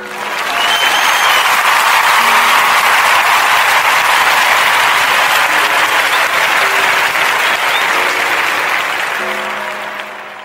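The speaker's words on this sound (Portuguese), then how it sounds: "quero pedir uma grandíssima salva de palmas" Loud, sustained applause from a large crowd, steady clapping filling the whole stretch and tapering slightly at the end.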